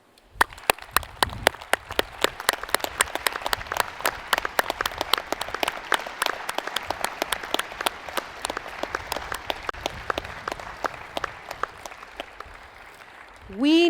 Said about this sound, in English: Please give the people who supported you throughout your education a round of applause.